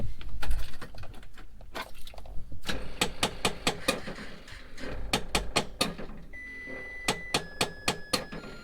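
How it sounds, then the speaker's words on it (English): An unconnected vent mix flap in a 6.7 Cummins truck cab clicks in quick, sharp bursts of repeated ticks, loud and close over a low engine hum, with faint beeps near the end. "It's like the vent mix flap. It's not connected, so you'll hear like a click click noise."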